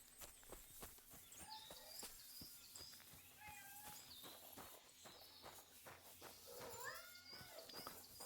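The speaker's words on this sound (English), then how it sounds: "Is that meowing?" Kittens meowing in the medieval role-playing game Kingdom Come: Deliverance 2, several faint high mews scattered over quiet footsteps and soft clip-clop ambience, no voices.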